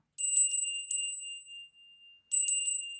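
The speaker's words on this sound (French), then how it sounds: "Ah, j'ai pas fait la cloche." A small bell rings clearly in two bursts of quick bright tinkling strikes, separated by a pause of near silence, close and alone without any talking.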